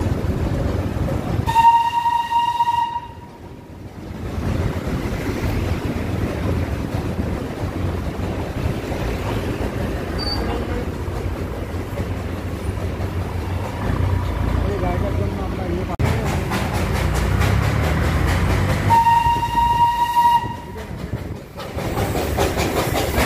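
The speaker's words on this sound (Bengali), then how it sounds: "সামনে ট্রেন চলছে শিলিগুড়ির উদ্দেশ্যে" Train running along the line toward Siliguri, heard from a moving motorbike beside the track: a steady loud rumble throughout, with two short horn-like tonal blasts near the start and again near the end.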